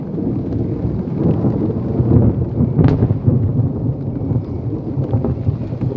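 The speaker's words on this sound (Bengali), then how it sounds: "মেঘলা দিন বৃষ্টি হচ্ছে এই মুহূর্তে" On a cloudy day in a village, rain falls in a steady wash of noise, with a low rumble like distant thunder and no talking.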